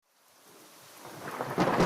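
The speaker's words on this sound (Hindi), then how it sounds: "भोलू तूफानी बारिश में बाहर निकला।" Stormy rain with thunder sweeps in from silence: a rumble and the hiss of heavy rain build steadily and grow loud and near by the end.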